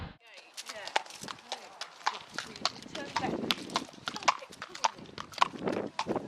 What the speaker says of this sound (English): There is an actual real horse there.